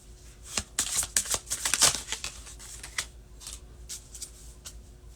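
Tarot cards are shuffled close by in quick flurries of crisp riffling and slapping, busiest early and then thinning to scattered flicks, with no talking.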